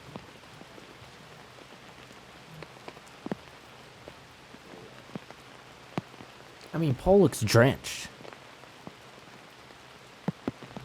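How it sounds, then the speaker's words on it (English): Steady heavy rain patters across a surface throughout a disc golf round, with a brief louder burst of voices and splashing noise partway through; someone speaks over it. "it's raining for real, for sure. Heavy rain."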